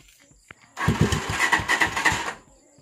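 A Honda-type motorcycle fitted with a Z200 alarm cranks and fires up by remote, a short starter whir catching into a sputtering, uneven low idle for about two seconds before cutting out.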